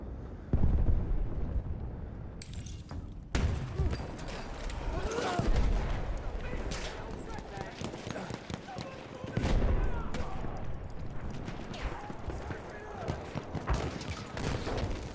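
Battlefield 1 battle noise with incendiary grenades and gunfire: repeated heavy booms and crackling volleys in a dense, continuous wash of combat, with a voice talking underneath.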